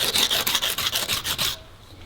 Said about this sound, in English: I'm going to use a piece of hardwood as a backing, wrap my sandpaper around it, and start sanding.